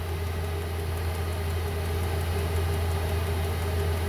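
A diesel heater running off a battery box, a steady low droning hum with a faint mechanical whir, constant and close throughout without voices.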